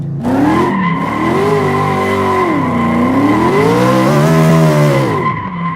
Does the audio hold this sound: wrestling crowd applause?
no